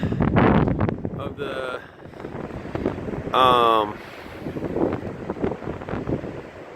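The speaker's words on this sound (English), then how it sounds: "I'm standing on the other side of the truck because I can't deal with the wind." A strong winter windstorm buffets the microphone in loud, uneven gusts beside a truck, with rumbling roars and a few whistling bursts, while a person talks intermittently.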